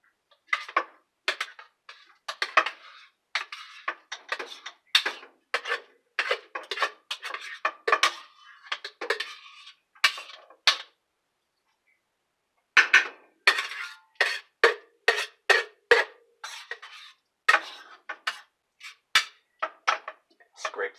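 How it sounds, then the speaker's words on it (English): Metal spoon scraping chicken and rice out of a cooking pot, a quick run of close, sharp scrapes and clinks in bursts, a brief pause partway, then more rapid scraping. "Take that, scrape it all out of here."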